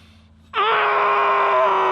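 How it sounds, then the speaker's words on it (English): After a brief quiet moment, a sustained muffled scream begins abruptly and holds steady, loud and strained. "Before I go into the shadowy depths of pillow screaming"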